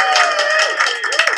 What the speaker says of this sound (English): You can have the clapping.